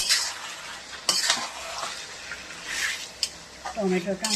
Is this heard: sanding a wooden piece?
no